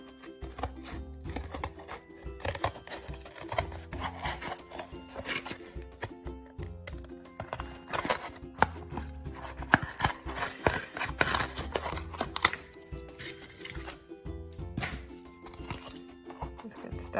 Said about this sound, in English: Cardboard is not that easy to cut, especially if you don't have the best scissors.